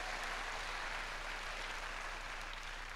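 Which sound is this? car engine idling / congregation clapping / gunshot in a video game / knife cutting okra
congregation clapping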